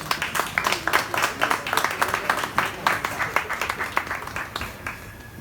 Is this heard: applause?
yes